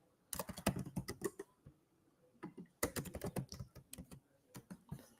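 Typing on a computer keyboard, with two dense bursts of rapid key clicks separated by a short pause; the keystrokes are close and crisp, with no talking.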